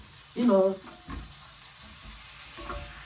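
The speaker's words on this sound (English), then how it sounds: "So now I'll give this a little bit of turn in the pan" Asparagus seasoned with piri piri being turned in a frying pan, with a low, steady sizzle and soft scraping; a brief voice-like tone sounds near the start.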